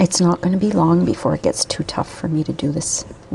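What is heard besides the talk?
None of the usual background noises is heard.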